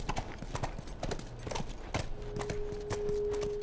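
Horse hooves clip-clop at a steady walking rhythm as a rider moves through The Last of Us, close and distinct. A soft sustained game tone enters near the end.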